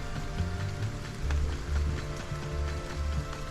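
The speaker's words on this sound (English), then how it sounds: "It's only rained so far." Rain falls in the video game Stranded: Alien Dawn, a faint, even patter with a soft low hum beneath it.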